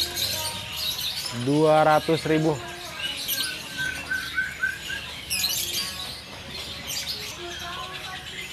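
Canary of the loper type singing in a busy bird shop, bright trills and chirps among other caged birds, with someone talking over the birdsong.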